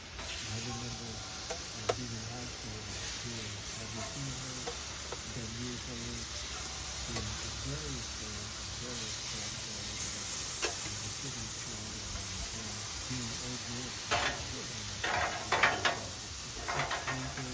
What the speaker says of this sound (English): Now let's sear these bad boys so they look like the burgers that everybody wants to eat.